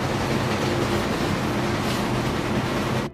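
A train in a Russia-Ukraine war film rumbles and roars loudly and steadily, with no talk, and cuts off abruptly at the end.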